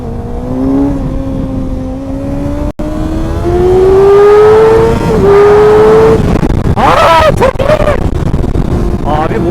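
Motorcycle ridden on a night ride, the engine rising in pitch through the gears with loud, steady revving and a shift midway, wind noise and a speaking voice over it.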